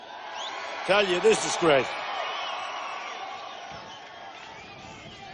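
A large crowd at a Donald Trump campaign rally in Sacramento, California, a steady, distant murmur and roar under a man's brief spoken remark.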